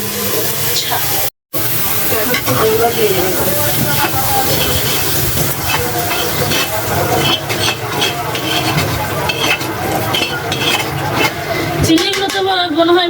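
Continuous hiss of shrimp frying in hot oil, close and fairly loud, with people talking over it.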